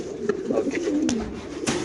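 A male club racing pigeon coos close by, giving a soft, low, warbling call that rolls on for about two seconds, with faint background noise.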